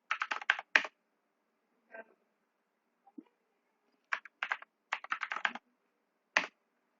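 Keys on a computer keyboard are typed in quick clustered bursts separated by pauses, crisp and close, with a few isolated single clicks and no voices.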